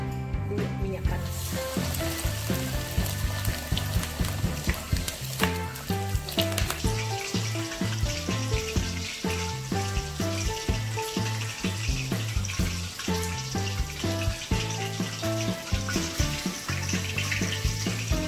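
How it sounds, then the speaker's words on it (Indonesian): Chicken pieces frying in hot oil for a Shihlin-style fried chicken, giving a continuous bright sizzle that runs steadily throughout, close and loud, under background music. "Kita goreng dulu minyak panas."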